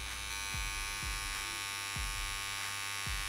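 A CNC M-X1 tattoo machine runs needles at 9 volts with a 3.2 millimeter stroke, giving a steady close electric buzz with a faint periodic thump repeating about every half second, alone without talk.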